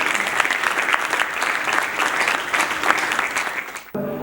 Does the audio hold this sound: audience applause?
yes